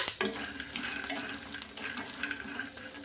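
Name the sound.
peanuts frying in a pan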